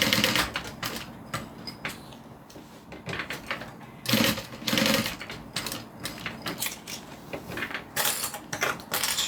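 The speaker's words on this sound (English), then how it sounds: "I'm just going to sew a box, a rectangle." A sewing machine stitches a rectangle in bursts of rapid, close mechanical clatter, pausing briefly as it turns the corners.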